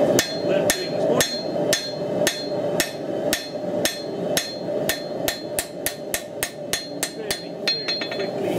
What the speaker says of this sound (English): I'll obviously taking a hammer and doing what I've learned doing this morning.